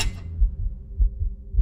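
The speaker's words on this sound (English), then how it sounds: "I'm hearing a heartbeat." Heartbeat in the horror video game Office Paradox: low, muffled thumps in a slow, steady rhythm, about three beats in under two seconds, alone over a dark ambient hum.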